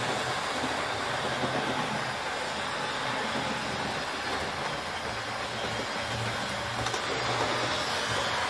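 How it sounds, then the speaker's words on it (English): A model diesel locomotive, a Class 31 type, runs steadily around a layout's track and through a station, with a continuous rolling rumble and faint clickety-clack of wheels on rails throughout, fairly close, with no talk. "while you're watching this train fly around the tracks here, let's watch it go through the other station"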